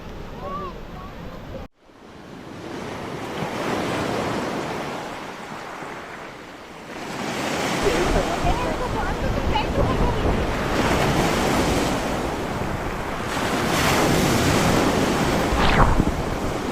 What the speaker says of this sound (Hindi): हम लोग यहाँ बीच पे बैठे हैं